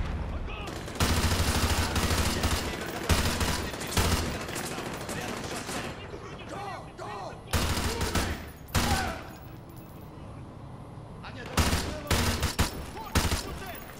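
Heavy automatic gunfire in a video game favela map, with long sustained bursts that stop and start repeatedly, loud and close, with brief quieter gaps between volleys.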